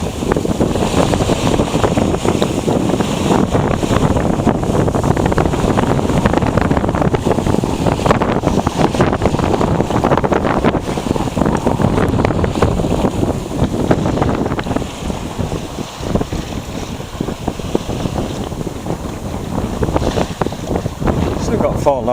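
A sailboat heeled over under sail on the open sea bound for St. Thomas, with steady loud wind roar buffeting the microphone and rushing water and waves along the hull throughout.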